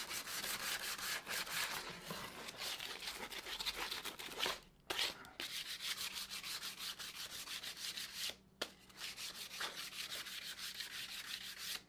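Olive oil being rubbed by hand into a handmade hemlock wooden spatula, a steady close scraping rub that runs on with two brief pauses.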